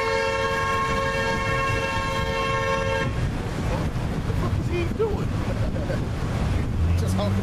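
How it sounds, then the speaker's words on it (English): A train horn blows a sustained multi-tone blast for several seconds under steady rumbling rail noise, then cuts off, leaving the rolling clatter of the passing train. "He's just honking the fucking horn."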